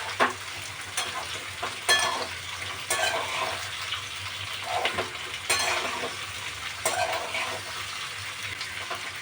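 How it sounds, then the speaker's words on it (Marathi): Pumpkin sautéing in oil in a pan, a steady close sizzle broken by several louder spoon-stirring scrapes at irregular intervals. "हे अशी थोडंसं परतून घेते तेलामध्ये."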